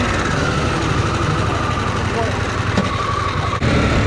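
A 2025 Harley-Davidson CVO Pan America motorcycle runs with a loud, steady engine drone as it sets off, close and continuous with a slight dip near the end.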